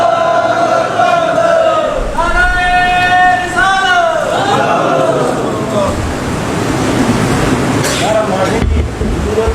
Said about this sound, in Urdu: میرے بھائی ہم آپ کے نعرے کی قدر کرتے ہیں